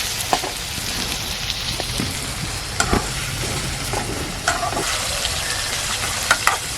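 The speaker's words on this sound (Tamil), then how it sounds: "தக்காளி இப்போ தான் போட்டிருக்கோம் தக்காளி நல்லா வதங்கணும்" Tomatoes sauté in a pan of mango fish curry base, giving a steady, close sizzling hiss with occasional sharp clicks of a stirring spoon against the pan. No one speaks.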